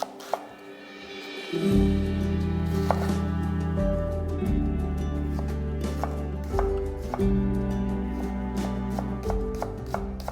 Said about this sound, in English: A quarter of a red onion, sliced.